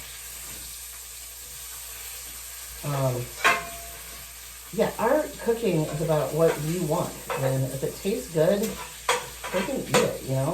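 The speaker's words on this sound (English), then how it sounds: "Look at you seeing the bacon. I know you can hear it sizzling in the background." Bacon sizzles steadily in a pan in the background while people talk over it, the crackling hiss constant beneath their voices.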